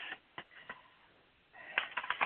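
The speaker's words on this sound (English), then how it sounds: "do some shuffling." Tarot cards being shuffled by hand, a few crisp papery riffles early on, a quiet stretch, then a denser burst of quick shuffling flicks near the end, close and fairly soft with no talking.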